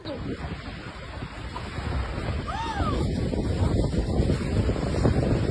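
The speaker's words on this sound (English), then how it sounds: "Tem tornado, tá aqui no camping agora." Strong tornado winds roar and buffet the microphone at a campsite in Albufeira, Portugal, a dense, loud rushing noise that builds over the clip, with faint cries rising above it.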